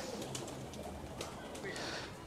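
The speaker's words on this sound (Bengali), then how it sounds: "এখানে দেশি কবিতর, বিদেশি কবিতর, সব ধরনের কবিতরই কিন্তু রাখা আছে।" Pigeons coo softly inside their cage at Bangladesh National Zoo, low murmuring calls repeating over a faint, busy background of distant voices and chirps.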